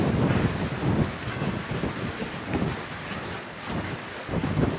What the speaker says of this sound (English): But yeah, it's super windy.